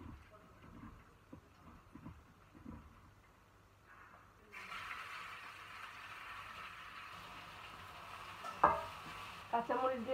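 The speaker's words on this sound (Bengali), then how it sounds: "দিয়ে দিলাম তেল, আর দিয়ে দিব একটি শুকনো মরিচ, এই করলাটা দিয়ে দিব" Bitter gourd dropped into hot oil with a dried chili, a quiet room tone giving way to a sudden broad, steady sizzle, with a few close clinks and scrapes of a utensil near the end.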